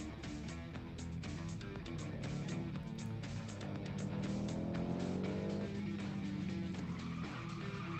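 A car slides around a corner under handbrake in a driving video game, its engine humming steadily while a rising, sustained tire squeal builds midway, loud and close throughout.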